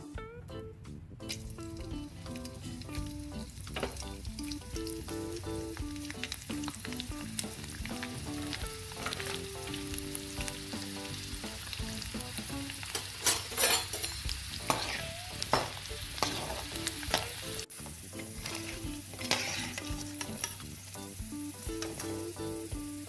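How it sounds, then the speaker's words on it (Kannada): Sabudana and potato chakli deep-frying in hot oil, a continuous close crackling sizzle with bubbling and occasional light clinks of a utensil, steady throughout with no speech. "ಈಗ ಇದನ್ನು ಎಣ್ಣೆಯಲ್ಲಿ ಫ್ರೈ ಮಾಡೋಣ"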